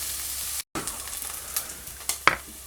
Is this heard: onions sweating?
yes